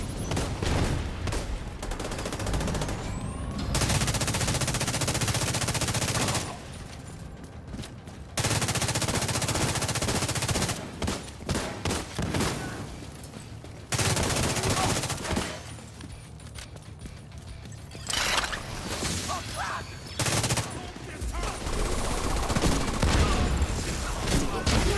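Loud bursts of automatic turret gunfire in the shooter video game The Division 2, sustained volleys lasting several seconds each, broken by short lulls and mixed with game noise.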